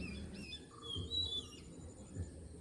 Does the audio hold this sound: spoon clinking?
no